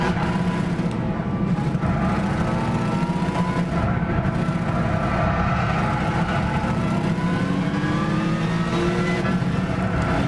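A classic muscle car in Gran Turismo 6 drifts with a loud, continuous engine roar, its pitch rising and falling as the throttle changes, plus tire noise throughout, close and steady with no pauses.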